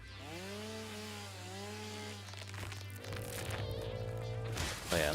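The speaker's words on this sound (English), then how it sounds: "Chainsaw." A chainsaw cuts a tree in Satisfactory, giving a steady droning whine with a rising, wavering pitch for several seconds. It carries on continuously, loud and close, with no talk.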